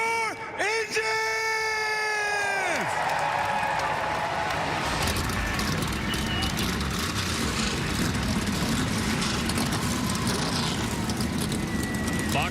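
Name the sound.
stock car engines starting at the Daytona 500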